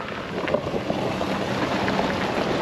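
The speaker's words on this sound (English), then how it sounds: "getting a little windy here today" Steady wind roars across the microphone in a continuous broadband rush, with faint water and boat noise underneath.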